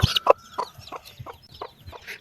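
A desi naked-neck hen guarding her small chicks gives a close series of short, sharp clucks in an uneven rhythm, with no talking.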